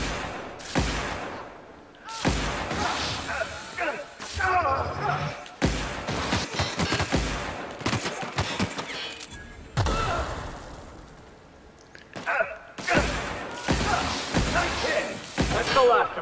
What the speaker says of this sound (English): I just shoot him wildly.